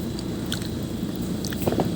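A baby bites into and eats a donut, giving soft, close bites and squishy chewing over a steady low background hum, with a couple of clearer moist bites near the end.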